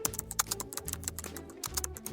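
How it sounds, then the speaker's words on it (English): Quick, uneven clatter of fingers typing on a computer keyboard, close and crisp, a short burst of keystrokes with brief pauses and no voices. "That's someone typing on a computer keyboard."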